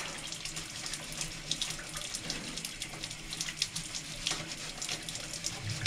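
Tap water runs steadily into a paint shop sink while a scrub pad works at a piece under the stream, the splashing flow broken by soft, uneven scrubbing pulses nearby.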